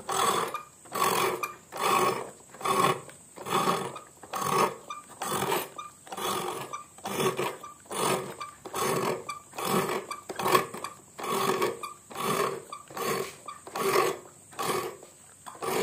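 Ridge gourd skin being scraped off with a blade in a village kitchen, a steady run of about fifteen rhythmic rasping strokes, close and fairly loud, with no talking.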